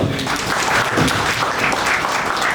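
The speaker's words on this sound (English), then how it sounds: "we get a big round of applause" An audience at a fireside chat gives a round of applause, a thick, steady wash of many hands clapping, loud and close, with a low rumble of the room underneath and no speech on top.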